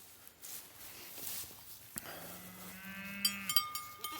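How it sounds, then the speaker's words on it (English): Cows bawl from a far corner of a field, a long low moo followed by further calls, faint and distant, with scattered nearby rustles and footsteps. "My grandfather's cows are bawling at me from way at that corner"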